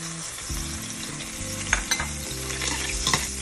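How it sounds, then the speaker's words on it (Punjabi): Whole cloves hit hot ghee in a pan and sizzle in a steady, crackling fry, with the faint scrape of stirring and some clinks close by, and no one talking. "ਘਿਓ ਗਰਮ ਹੋ ਗਿਆ ਵਿੱਚ ਆਪਾਂ ਛੱਡ ਦਈਏ ਲੌਂਗ"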